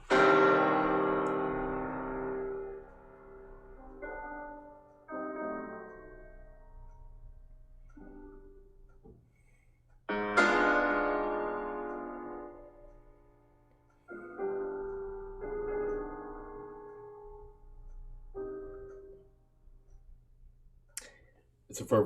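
A music example at a very slow grave tempo: widely spaced, ringing chords each strike and fade away slowly, with long gaps between them.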